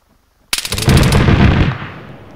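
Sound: gunfire in Arma 3 video game

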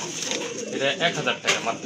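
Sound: pigeons cooing

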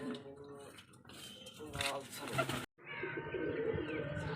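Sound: pigeon cooing

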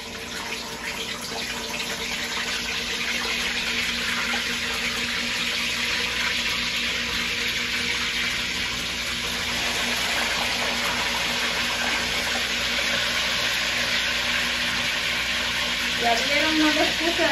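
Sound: mojarra fish frying in hot oil in a clay pot

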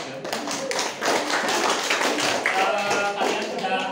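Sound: applause from the class

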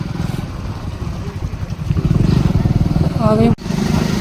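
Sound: motorcycle riding on village road

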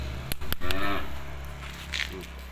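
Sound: cow mooing

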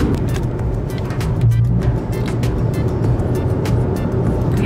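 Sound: car driving down the road

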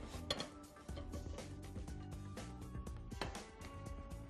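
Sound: placing pancakes onto a plate

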